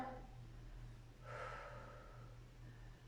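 A deep audible breath during a live stretching class, a single soft inhale-exhale over a low steady background hum.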